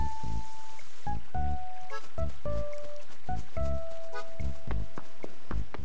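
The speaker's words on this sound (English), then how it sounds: "Water these flowers." Flowers being watered in Animal Crossing: City Folk, a run of short splashy liquid squishes alongside bright melodic game tones, repeating steadily and close with no talk over it.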